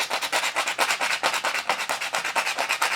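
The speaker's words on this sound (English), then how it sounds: "sand the edges." Heavy grit sandpaper rasping against the edges of a soda can blade-bait lure in quick, even back-and-forth strokes, close and fairly loud, with no voices.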